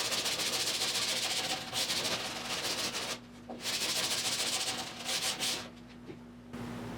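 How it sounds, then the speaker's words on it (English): Close, steady rasping of sanding on the windshield frame of a 1972 Triumph GT6 during bodywork, running in long continuous strokes that break off briefly twice before resuming. "now I'm gonna try to sand only the bottom so I can see where the line is"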